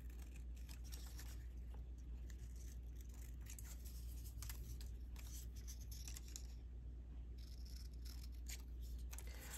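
Scissors snipping paper for a scrapbook layout, a faint, steady run of small crisp cuts over a low constant background hum, with no talking.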